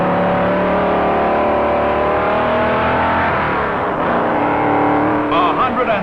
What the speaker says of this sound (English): Cotton Owens in one of Ray Nichols' Pontiacs